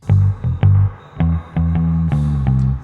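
Guitar chords with reverb added to an amp and direct signal in a mixing demonstration for a vintage 60s character, strummed in several loud bursts that ring into sustained tails, close and full.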